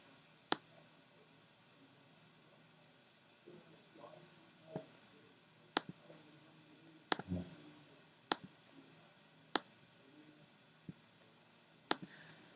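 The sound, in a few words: computer mouse clicking while drawing in Adobe Illustrator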